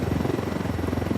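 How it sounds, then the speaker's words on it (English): Rotor thump of an enemy Unidad helicopter in the video game Ghost Recon Wildlands, a steady rapid beating drone that holds even and fairly loud throughout with no voices. "I'm going to stay away from that Unidad helicopter."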